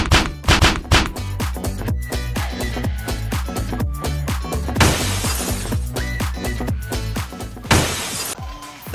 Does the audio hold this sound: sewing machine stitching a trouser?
no